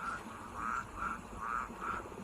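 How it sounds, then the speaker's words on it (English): Small spotted orange frogs croaking in the Minecraft video game, a steady rhythm of about five soft repeated croaks over a low ambient hum. "Also, the room has frogs."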